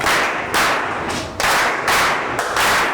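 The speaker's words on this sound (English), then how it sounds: "let us clap 3 factorials" A mathematics class claps in a rhythmic pattern, loud sharp unison bursts at regular intervals, several groups of close claps repeating across the moment.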